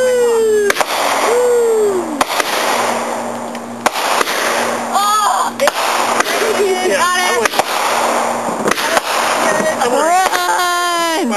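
Fireworks go off at a backyard display, with whistling rockets rising and sharp bangs and crackles scattered through, while people talk and call out over them.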